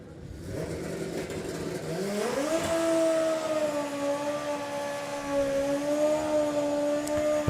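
A drag racing motorcycle tears down the strip at the Summer Nationals, its engine note climbing sharply and then holding a loud, sustained high-pitched wail that carries across the track for several seconds.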